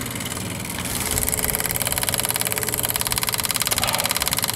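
A 7.3 IDI diesel engine idles close by on its first start with a new injection pump, a loud, steady, rough clatter that firms up after about a second and holds its even knocking rhythm throughout, with no talking.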